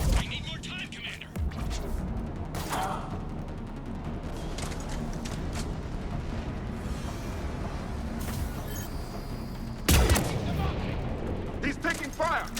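Gunfire and explosive booms from a sci-fi third-person shooter battle in Mass Effect 3, sustained dense firing throughout with a sharp loud blast near ten seconds, voices speaking over the fighting.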